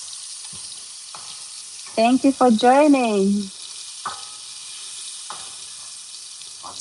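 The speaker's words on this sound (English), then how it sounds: "We are just frying our onions right now" Onions frying in a pan give a steady, hissing sizzle throughout, with a brief spoken voice rising over it midway and a few clinks.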